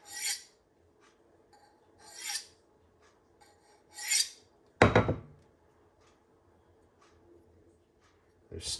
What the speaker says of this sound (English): go over this ceramic rod a couple times. Just the weight of the knife.